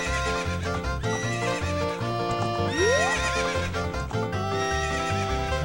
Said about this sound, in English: this dumb horse just freaks out